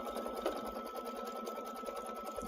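Embroidery machine stitching a tack-down line on a zippered bag, a fast steady mechanical whirr with rapid needle clatter, close and fairly quiet.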